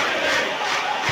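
Crowd in a football video game (Manchester United versus Manchester City, Premier League) roars and jeers at a careless challenge, a loud, steady wash of massed voices with no clear talk over it.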